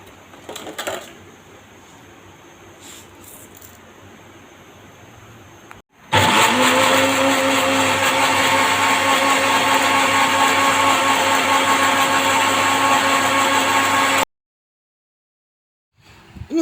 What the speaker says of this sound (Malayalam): ഒരു അരമുറി തേങ്ങ ഞാനിവിടെ അരച്ച് വയ്ക്കാൻ പോവുകയാണ്.